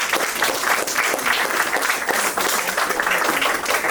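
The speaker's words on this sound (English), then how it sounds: "we can all clap it up for Pastor" A congregation claps for their pastor at a fifth anniversary celebration, a sustained, dense wash of applause filling the room at an even level throughout, with no speech over it.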